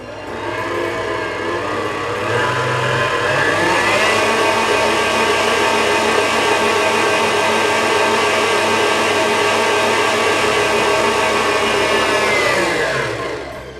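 Electric hand mixer whirring steadily through coconut cookie batter after vanilla is added, a loud continuous motor drone that runs for about thirteen seconds and then winds down, with no talking.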